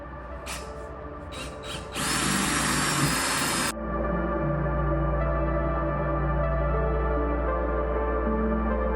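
A power drill boring into wood whines loudly for a couple of seconds after a few short bursts, then cuts off, leaving a steady motor hum behind.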